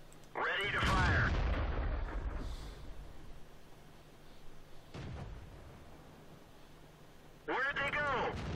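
A tank cannon from World of Tanks, a StuG IV tank destroyer, fires a single loud booming shot around the five-second mark, with voices speaking at the start and end.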